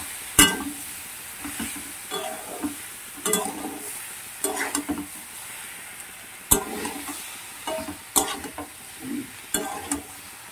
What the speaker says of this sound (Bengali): সবজি মশলার সঙ্গে মাছগুলোকে ভালো করে ভেজে নিতে হবে।